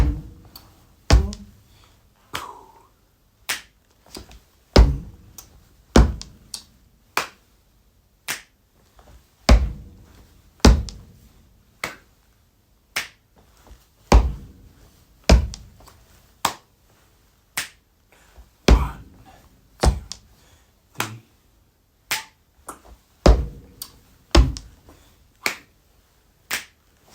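Body percussion for a beginners' routine to Dua Lipa's "Don't Start Now": foot stomps and finger snaps in a steady repeating pattern, sharp close hits spaced about a second apart across the whole stretch, with no voice.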